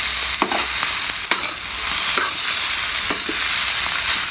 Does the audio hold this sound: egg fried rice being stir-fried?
yes